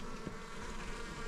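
Honey bees buzz steadily in a laundry room ceiling during a colony removal, a close, continuous drone with no voices.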